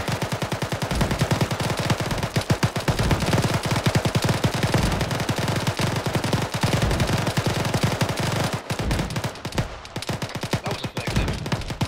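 Machine gun fire in a military video game, rapid dense bursts of shots rattling almost continuously, loud and close, with a brief voice speaking near the end.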